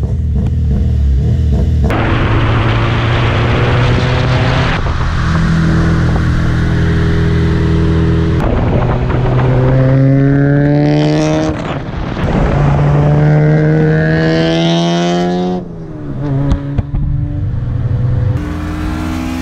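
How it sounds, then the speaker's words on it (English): A Honda car engine revs hard and loud close by, its pitch climbing and falling through repeated sweeps over about twenty seconds, with voices barely present. "This car is so freaking loud right now."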